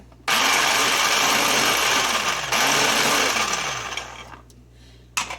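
Ambiano electric mini food chopper pulsing onions: two loud bursts of whirring motor noise with a chopping rattle, the first about two seconds long and cut by a brief pause, the second winding down, no talking.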